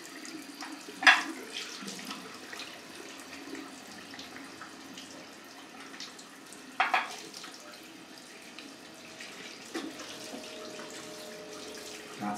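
Tap water running into a sink while a face is rinsed with cold water after a straight-razor shave, faint steady flow broken by a few louder splashes, no speech.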